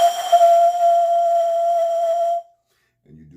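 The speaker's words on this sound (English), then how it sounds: "face the east and whistle or blow into it" A single long, steady whistled tone held for over two seconds, blown toward the east as part of a Florida water cleansing ritual; it cuts off abruptly, followed by silence and a faint murmur.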